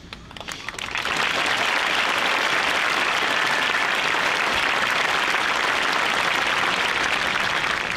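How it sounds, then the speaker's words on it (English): Loud, sustained applause from a large crowd at a high school graduation swells within the first second and continues steadily to the end. "can we give a round of applause for these young men and women's parents?"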